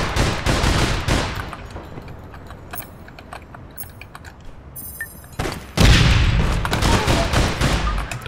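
Rapid rifle gunfire crackles in the APB Reloaded shooter game, with scattered bursts and clicks, before a loud grenade explosion bursts near the end and rumbles on under more shots.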